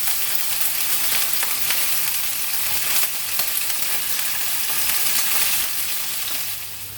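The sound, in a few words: meatballs browning and sizzling in a frying pan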